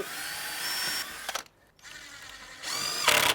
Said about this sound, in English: So just a little bit up, drill a hole.